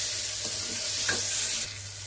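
Ginger garlic paste fries in a pan for mutton keema cutlets, giving a steady, close hiss with one brief scrape of stirring midway and no talking.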